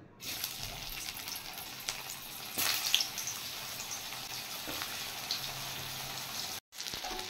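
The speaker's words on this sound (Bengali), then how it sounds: "তেল গরম হয়ে গেছে, এবার আমি এগুলো ভেজে নেব।" Bitter gourd stuffed with mung dal frying in hot oil, a continuous close sizzle and crackle with a brief louder burst partway through.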